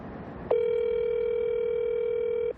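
A steady telephone dial tone hums for about two seconds while a minister's personal phone is being called, clear and even from start to finish with no voices over it.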